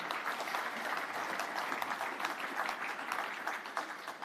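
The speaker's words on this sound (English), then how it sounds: "So what about a round of applause for all of those excellent sponsors?" An audience at the Fieldays Innovation Awards evening claps for the event sponsors, a steady, dense wash of applause that runs the whole time and sounds somewhat distant and subdued.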